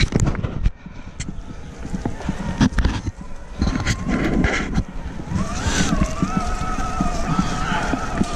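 An electric mountain bike's motor cuts in late on a singletrail ride, and a rising, then steady whine emerges over rough trail rattle and wind.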